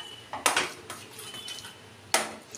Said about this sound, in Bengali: দিয়ে ভালো করে নাড়িয়ে দেব যাতে মশলা আর ডাল একসঙ্গে মিশে যায়